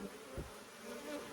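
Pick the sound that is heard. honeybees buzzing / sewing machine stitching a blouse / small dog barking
honeybees buzzing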